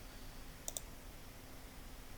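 Two quick, close mouse clicks on a computer while working in Excel, crisp and near over a quiet steady hiss, with no talking.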